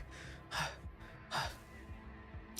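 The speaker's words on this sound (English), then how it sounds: "The child reaches the massive oak tree, gasping for air." A child gasps for air in Punishing Gray Raven, two sharp breathy intakes close to the listener, followed by faint softer breaths.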